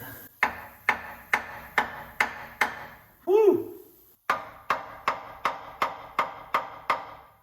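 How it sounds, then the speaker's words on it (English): A heavy hammer thumps on a solid metal part of a 1969 Ford F100 pickup during water pump removal, in steady repeated blows, close and loud; a brief pause brings a short shout before the pounding resumes. "Where's our big hammer? I don't want to bust it. I just want to thump it."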